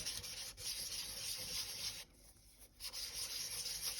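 A polymer clay bowl being sanded smooth by hand, giving a steady close scratchy rubbing with one short pause partway through and no talk.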